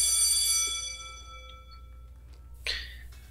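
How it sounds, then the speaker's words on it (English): A school class bell rings in a video game, a bright sustained ding with long ringing overtones that fades over about a second, followed by a brief rustle. "Class bell begins, disrupting the moment and snapping everybody back to reality."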